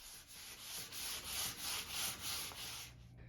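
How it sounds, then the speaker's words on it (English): Close, steady back-and-forth rasp of 400-grit sandpaper rubbing on a urethane-coated wooden tabletop, in even rhythmic strokes, soft and hissy, with no voices. "Here I'm sanding with 400 grit before applying the third coat of the urethane."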